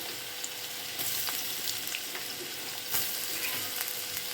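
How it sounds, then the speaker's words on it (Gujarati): Peanuts and potatoes fry in a pan for poha with a steady, fairly faint sizzle, broken by occasional light clicks and stirring sounds, and no voices. "એની સાથે સાથે જ આપણે શીંગદાણા નાખી દઈશું અને આ બટેટા નાખીએ"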